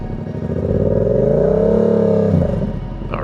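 Motorcycle engine while riding on the clutch alone, a close steady drone that rises gently in pitch and then drops away as the load eases, no talk.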